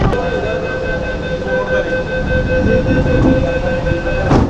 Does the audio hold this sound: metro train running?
yes